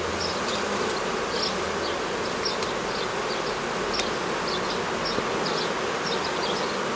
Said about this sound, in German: Bienen sind am Sterzeln.